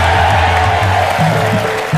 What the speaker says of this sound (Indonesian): Tepuk tangan sekali lagi untuk Marwoto.